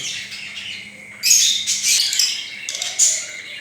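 Caged pet cockatiels give several sharp, shrill squawks and chirps close by, short bursts spaced over a few seconds against a quiet background.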